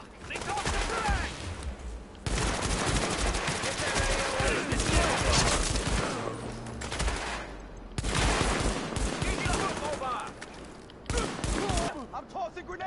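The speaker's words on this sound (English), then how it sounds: "Focus fire. Heavy fire." Heavy, sustained automatic gunfire from a firefight in Tom Clancy's The Division, loud dense bursts with brief gaps, with a voice calling out over the shooting.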